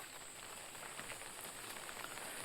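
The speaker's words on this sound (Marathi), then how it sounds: "बेफाम पाऊस हा आणि कंटिन्यू सारखं पाऊस पडत राहता।" Heavy, unbroken monsoon rain pours over flooded paddy fields near Devgad, a soft steady hiss of drops with no pauses and no voices.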